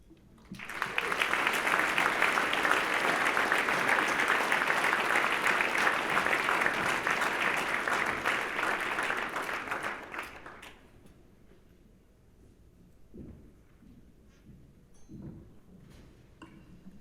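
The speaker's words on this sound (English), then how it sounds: "Please join me in one more round of applause for Mike Davis, Nate Morris, Debbie Scapecch" A large audience at a hall of fame ceremony bursts into loud, sustained applause for about ten seconds, then it fades to scattered claps and room murmur.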